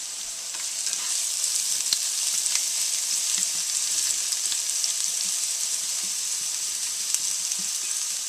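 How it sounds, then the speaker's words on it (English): Garlic browning in a pan as tomatoes are added for a homemade tomato sauce, a steady close hissing sizzle with faint scattered pops and clicks, no voices over it. "And we'll brown up our garlic."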